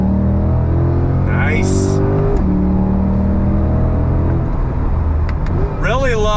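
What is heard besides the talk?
C8 Corvette Stingray engine accelerating on throttle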